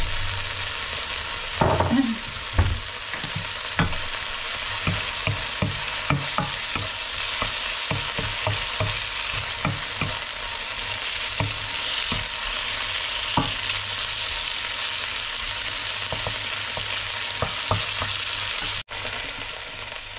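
Meat stir-fries in a pan with black pepper and oyster sauce for chop suey, a continuous sizzle broken by frequent sharp clanks and scrapes of a spatula against the pan, with no talking.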